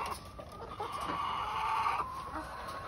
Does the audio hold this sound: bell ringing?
no